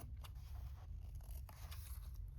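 Scissors snip and trim fabric edges for a scrap quilt, a few soft, quick cuts heard up close over a steady low hum.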